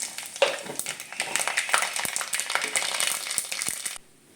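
Mustard seeds spluttering in hot coconut oil, a dense crackling sizzle with sharp pops scattered throughout that stops abruptly near the end.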